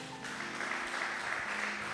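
A church congregation applauds during a sermon, a steady wash of many hands clapping at moderate distance, sustained across the whole clip without speech over it.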